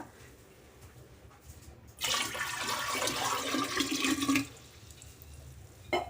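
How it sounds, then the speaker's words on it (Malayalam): Water poured into a ceramic jar while cleaning it in a kitchen, a steady splashing rush lasting about two and a half seconds, close and fairly loud, with quiet before and after. "ഇനി ഇതിലേക്ക് നമുക്ക് വെള്ളം ഒഴിച്ചു കൊടുക്കാം"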